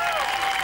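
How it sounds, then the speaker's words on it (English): Thousands of people cheer at midnight in Auckland as the yacht Maiden, skippered by Tracy Edwards, arrives after winning a Whitbread race leg, a dense, steady roar of applause and crowd noise filling the short stretch. "thousands came to cheer"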